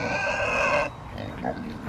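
Pigs grunt and oink in a short burst of loud, close farmyard noise that cuts off sharply, leaving a few fainter snorts against a quiet background.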